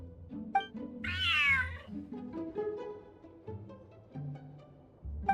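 A cat meows in a bright, wavering call in the video game Genshin Impact, heard once clearly near the start amid soft game music and ambient sounds, with no talking.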